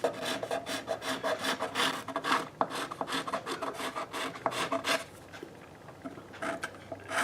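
Steady rasping scrapes as a scraper removes epoxy filler from the wood of a soprano ukulele, repeated strokes in a fairly even rhythm, close and moderately loud, with no voices.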